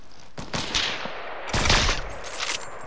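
Semi-automatic gunfire in a video game: several sharp shots crack out in a loose cluster, the loudest burst arriving mid-way and near, with no talk over it.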